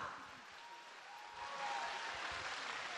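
An audience at the 2016 Miss Wheelchair Poland pageant applauds the dance group Trans, faint and distant clapping that swells slightly halfway through.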